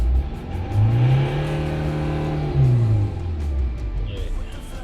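A Ford Transit Custom 2.2 van engine with a boost problem nearby revs up to a sustained high whine at 3,000 rpm, holds, then drops back to idle, loud and close.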